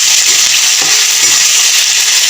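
Ginger and garlic paste sizzles loudly in hot oil in a kadai for chicken tehri, a dense, even crackling hiss with faint stirring scrapes and no talk.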